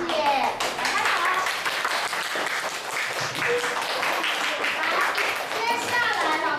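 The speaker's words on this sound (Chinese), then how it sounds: "来拍手" Children clap together in a classroom, a dense, steady patter of many small hands that fills the whole stretch, with young voices chattering faintly underneath.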